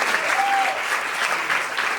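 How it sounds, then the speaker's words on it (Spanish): Audience applause for an elderly man at a humor and politics talk show, a dense, steady clapping from a crowd that stays loud for the full two seconds. "Un aplauso para el señor."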